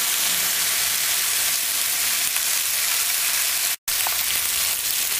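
Cabbage and chicken stir-frying uncovered in a pan on high heat, a loud, steady hiss of sizzling close up with a brief dropout partway through, no talk.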